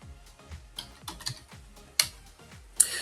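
Quick bursts of keystrokes on a computer keyboard as the ifconfig command is typed into a Kali Linux terminal, near and clear, with short pauses and a few sharper key hits.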